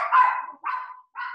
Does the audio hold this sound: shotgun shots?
no